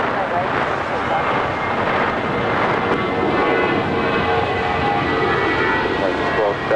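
An American Airlines A320 takes off from runway 25 right at LAX, a loud, steady jet engine rumble and roar filling the air throughout, with radio chatter mixed in.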